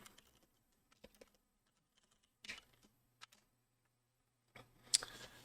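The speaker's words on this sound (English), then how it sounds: "you're just going to type print, parentheses, quotation marks, hello world" Sparse, faint keyboard taps typing a line of Python code, scattered single clicks and short clusters separated by near silence, with a louder burst of keystrokes at the end.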